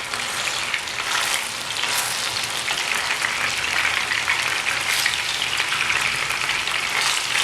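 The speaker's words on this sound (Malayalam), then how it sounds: "രണ്ട് വശവും ഇങ്ങനെ ഫ്രൈ ചെയ്തെടുക്കണം, നന്നായിട്ട് ഫ്രൈ ചെയ്തെടുക്കാം." Fish sizzling steadily in a hot frying pan for Kerala restaurant-style chilli fish, a dense, continuous crackle of oil heard close up with no talking.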